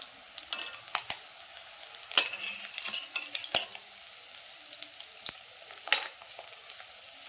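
Mackerel fish frying in a pan, a soft continuous sizzle broken by sharp ticks, pops and scraping clicks of a utensil at irregular intervals.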